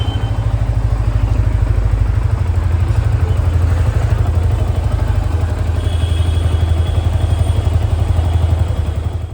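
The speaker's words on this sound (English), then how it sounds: "crank the engine and hear for any abnormal noise after some time" A Yamaha XSR motorcycle engine idles steadily up close, a loud continuous low rumble with a fine mechanical clatter and faint whir running evenly throughout.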